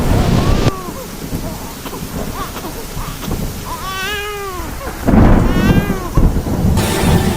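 Rumbling thunder and steady rain with gusting wind, broken by a small high-pitched cry that rises and falls near the middle and again later.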